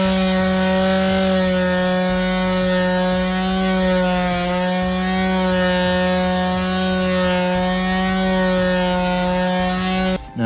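Electric power sander working a wooden log coaster, a steady loud motor whine with harmonic hum running unbroken for about ten seconds before cutting off abruptly at the end.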